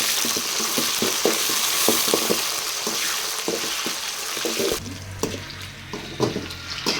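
Onions and curry leaves fry in hot oil for tamarind rice, giving a loud, steady sizzle with stirring scrapes that drops to a quieter crackle partway through.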